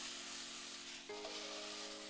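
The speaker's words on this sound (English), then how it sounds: "Nice little bit of sizzling." Food fries in a pan with a soft, continuous sizzling hiss, heard close and fairly quiet, with a faint shift partway through.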